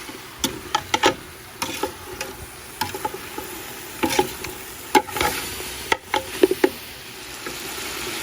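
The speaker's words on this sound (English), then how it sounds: "stir everything up until they turn crispy" Pork ribs for Khmer machu kreung soup fry in a pan with tamarind soup mix while being stirred, a steady sizzle broken by frequent scraping and clattering stirs, close and fairly loud with no talk.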